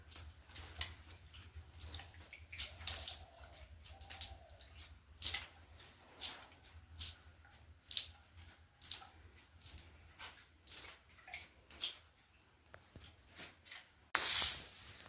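Water splashing and scattering over a floor being swept by hand, irregular wet slaps and swishes in short bursts, fairly close, with a louder splash near the end.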